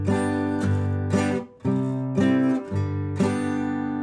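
Guitar bar chords strummed in a flat-picking style with no percussive muting, so each chord rings out fully; several sustained strums follow one another in a steady rhythm with brief dips between changes.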